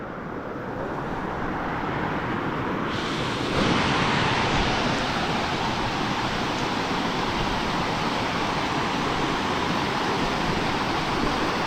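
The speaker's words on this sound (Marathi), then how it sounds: "हा वॉटरफॉल बघा मित्रांनो जबरदस्त आहे" Roadside waterfall on the road to Bhimashankar, a loud continuous roar of falling water that swells slightly a few seconds in and then holds steady throughout.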